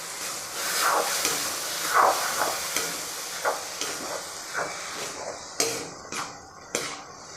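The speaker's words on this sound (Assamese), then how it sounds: "এতিয়া এইখিনি ভালদৰে মিক্স হৈ যোৱালৈকে এনেদৰে কম জুইত ৰাখি ভাজি থাকিব লাগিব।" Onion and tomato paste fry gently over low heat in a pan, with a soft steady sizzle broken by several scraping stirs and a few sharper clacks of a spoon near the end.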